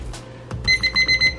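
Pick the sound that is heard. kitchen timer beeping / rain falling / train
kitchen timer beeping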